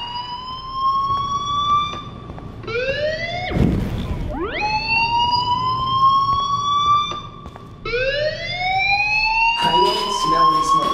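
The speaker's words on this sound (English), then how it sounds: "Hey, do you hear that fire alarm?" In the video game Life is Strange, a fire alarm wails in repeated rising whooping sweeps, loud and close, with brief bursts of noise between cycles.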